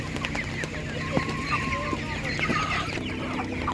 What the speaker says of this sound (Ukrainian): Це півні гарні.